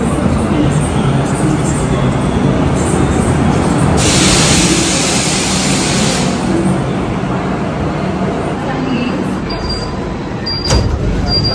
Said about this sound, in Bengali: এখন আমরা আছি টলিগঞ্জ মেট্রোর ভেতর।